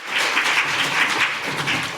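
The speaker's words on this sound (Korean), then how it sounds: "다시 한번 큰 박수 부탁드립니다." Applause from an audience at a panel discussion during a policy forum at the National Assembly: steady, dense clapping from a room full of people, sustained and fairly loud throughout.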